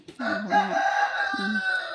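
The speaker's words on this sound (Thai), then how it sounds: "ที่ห้างไม่มีไก่ขันจ้าแต่นี่มาภาคเสียงครับที่บ้านจ้า" A rooster crows nearby at a family home, one loud drawn-out call with clucking undertones and a brief second outburst, heard clearly with no talking.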